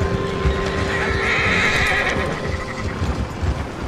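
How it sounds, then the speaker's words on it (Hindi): A horse in Red Dead Redemption 2 whinnies loudly and close, a long shaky neigh over a steady clip-clop of hooves on the ground. "देखे ना मेरा छोटा सा घोड़ा"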